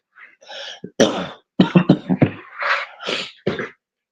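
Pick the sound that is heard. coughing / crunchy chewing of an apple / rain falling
coughing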